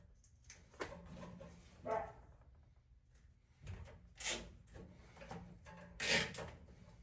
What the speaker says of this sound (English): Neighbor's dog is saying hi.